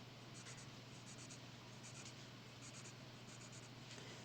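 A pencil scratches steadily across paper while math problems on a coordinate plane are worked out, a soft continuous scribble with brief repeated strokes, close and faint over a low background hum.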